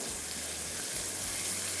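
Water pouring into a cooking pot while making qeema matar pulao, a steady close splashing gush lasting the whole moment.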